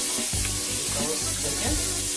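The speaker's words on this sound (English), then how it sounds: "I'm going to take this onion and put it in there" Chopped onion hits a hot pan, giving a steady, soft sizzle of frying with a few brief stirring clatters, heard close and without any talking.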